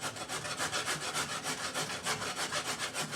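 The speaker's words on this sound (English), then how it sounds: "Scrape it one way, turn it the other." Barbecue grill scraped with a scraper: rhythmic back-and-forth rasping strokes, about four per second, close and steady with no voices.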